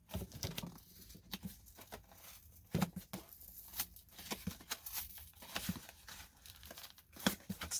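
Sticky packaging around a haul of Star Wars Legends novels is ripped and torn open by hand, giving bursts of crinkling, tearing and patter across several seconds, close and fairly quiet, with no talking.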